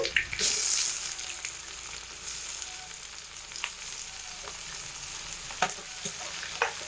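Garlic paste and chopped onion fry in hot oil, a bright, loud sizzle that flares at the start and then settles into a steady crackle, with a few scraping stirs near the end.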